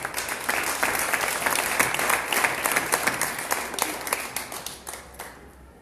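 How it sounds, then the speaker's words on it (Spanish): Audience applause at a conference on the history of surnames in San Juan de los Lagos: dense, steady clapping from a room full of people, sustained for several seconds before gradually thinning out at the end. "Un aplauso."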